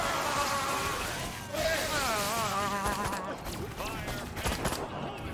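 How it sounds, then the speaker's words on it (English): Gunfire in the video game Destroy All Humans! crackles in rapid bursts among buzzing alien weapon effects, with a player talking over the action. "Wih, dia ada tembakan aja."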